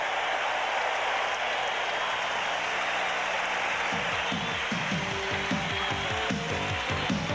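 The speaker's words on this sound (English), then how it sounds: "Listen to this crowd." A large baseball stadium crowd in 1987 roars and cheers after a strikeout. A dense, sustained wash of distant crowd noise carries some faint rhythmic thumping and clapping underneath.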